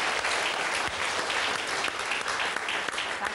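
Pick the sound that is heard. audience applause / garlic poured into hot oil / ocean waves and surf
audience applause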